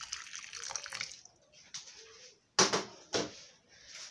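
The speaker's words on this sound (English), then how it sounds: "And then I'm gonna pour in warm water into the plate." Warm water is poured into a plate in several short bursts, a splashing trickle that starts, stops and resumes at close range, with quiet gaps between pours.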